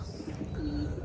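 Pigeons coo softly and nearby in a yard where goats are kept. A low, rolling call rises over steady background noise.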